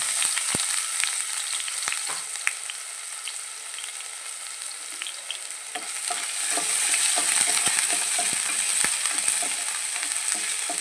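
Crushed ginger and garlic paste fries in hot oil with a constant bright crackle. Stirring adds scattered scrapes that grow busier and a little louder partway through, and no one speaks.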